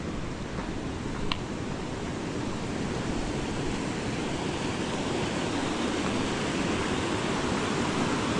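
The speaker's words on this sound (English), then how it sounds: "Water's running pretty good." Steady rushing water along a hiking trail on Malans Peak, a broad constant roar close by that fills the whole clip without letup, with no voices over it.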